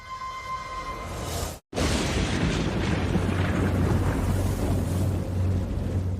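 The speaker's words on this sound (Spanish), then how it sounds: "Mac Brassel, todo comenzó con una explosión fuera de lo común" Explosion sound effect of an unusual blast on a New Mexico ranch, heard as a loud, sustained rumbling roar with a brief silent gap, then a continuous low boom and wind-like rush.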